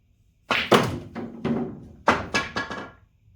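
On a pool table, a cue strikes the ball and billiard balls knock together in a short run of hard, close thuds and clacks, two clustered groups of impacts in quiet surroundings.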